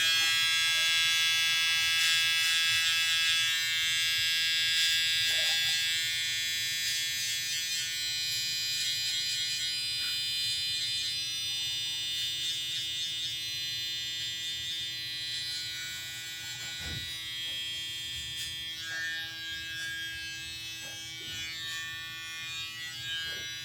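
Steady high-pitched electric buzz and hum of a Stylecraft Instinct hair clipper running continuously for a long stretch, close and even, with small changes in tone as it cuts; no talking.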